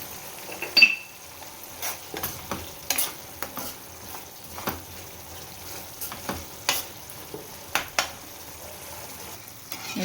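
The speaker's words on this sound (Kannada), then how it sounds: "ಸೊ ಇದನ್ನು ಪ್ಲೇಟ್ ಮುಚ್ಚಿ ಫ್ರೈ ಮಾಡ್ಕೊಳ್ಳೋಣ." Cashew (kaju) masala frying in a pan covered with a plate, heard as a soft background sizzle broken by irregular clinks and scrapes of a spoon stirring against the metal, close and without talk.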